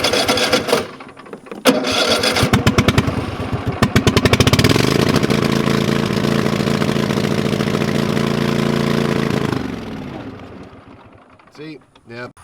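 A farm engine with the choke on cranks in rapid rhythmic bursts, catches and roars loudly for several seconds, then dies away into sputtering, a few faint turns following.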